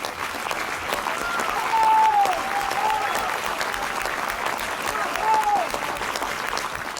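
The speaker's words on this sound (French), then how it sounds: "Après avoir entendu les hurrahs de toute la foule" A crowd cheers and applauds after a speech given on a festive day, a broad, sustained roar with a swell near the start and another toward the end, while a narrating voice runs over the top.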